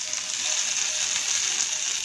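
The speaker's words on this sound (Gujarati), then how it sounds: "અને આ વઘારને આપણે આમાં રેડી દઈશું" Hot tempering (vaghar) poured over bajri pudla batter, giving a bright, even hissing sizzle that holds steady for about two seconds, close and fairly loud.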